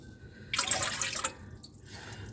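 A quarter cup of water is poured into a bowl of dark chocolate brownie mix, a short splashy pour lasting under a second, close and moderately loud, followed by quiet.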